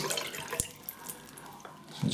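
A few drops of water splash and trickle into a shaving soap lathering bowl, faint and close, with soft clinks and small wet sounds from the bowl and brush.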